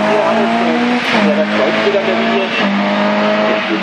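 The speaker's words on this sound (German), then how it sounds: "Paulik, 34 und Jörg Gründal ist der Nächste, der unterwegs ist. In BMW 320." A BMW 320 touring car races uphill at the 2006 Wolsfeld hill climb, its engine revving loud and close with shifting pitch as it accelerates, while a commentator talks over it.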